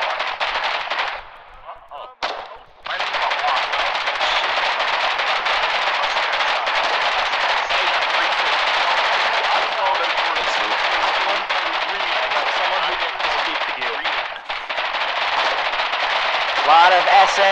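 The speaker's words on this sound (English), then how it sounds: "A lot of SMGs firing. That's the SMG at work." Submachine guns fire continuously in a chaotic battle in the war game Foxhole, a dense unbroken wall of rapid gunfire with a brief lull near the start.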